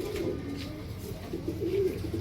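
Big-bodied Ambarsary pigeons, an old Indian breed, give soft low coos as they are held in the hand, a few murmuring calls over a quiet close background.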